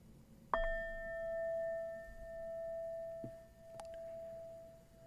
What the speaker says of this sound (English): let the bell be an invitation.